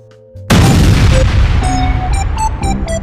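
A cartoonish bomb explodes in a bowling video game: a sudden loud boom bursts in after a brief quiet intro and rumbles on, with short electronic chime tones ringing over the tail.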